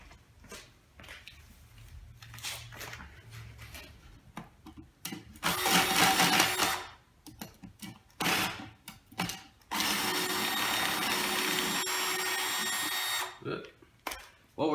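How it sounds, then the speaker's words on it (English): A power drill bores a hole for an air vent while a charcoal foundry is being built, running in two loud sustained bursts between quieter stretches with scattered knocks and handling sounds. "I'm still in the same spot, drilling the hole for the air vent."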